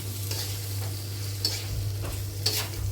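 Spices, prawns and pre-boiled raw green jackfruit are stirred in a pan for a curry, with a steady low sizzle under scraping spoon strokes that come in bursts.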